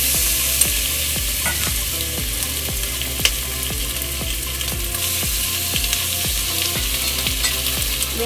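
Onion and garlic stir-fried over a medium flame for Cantonese-style spare ribs, with a steady sizzle broken by regular scraping strokes of the spatula against the pan, close and fairly loud, with no talking.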